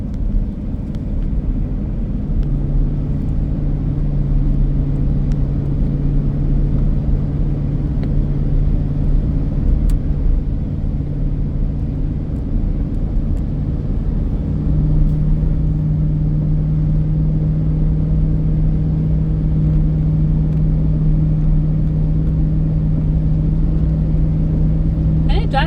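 A 2006 Ford F150 pickup truck on the road, its engine and tire rumble forming a steady low drone with a constant hum, continuous and fairly loud across the whole stretch.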